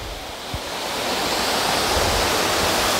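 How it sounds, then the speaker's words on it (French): Waterfall pouring into a river pool at the Cascade aux écrevisses in Petit-Bourg, Guadeloupe, a steady broadband roar of falling water that swells slightly and stays constant, close and fairly loud with no talking. "Regardez-moi cette belle chute les amis"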